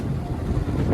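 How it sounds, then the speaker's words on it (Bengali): Wind and sea waves at Kuakata beach make a steady, rushing roar that swells slightly toward the end, with gusts buffeting the microphone. "বাতাস আর সমুদ্রের আওয়াজ"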